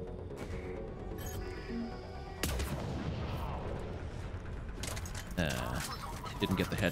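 Enemy gunfire crackles in a Mass Effect 3 firefight, with sharp sudden bursts and impacts cutting through a steady bed of combat noise, while someone talks over the action.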